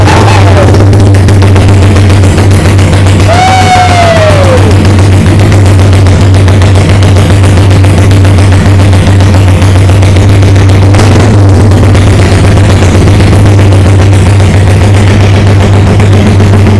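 A motorcycle exhaust runs loud and close in a steady, rapid rattling drone, with a brief high chirp early on.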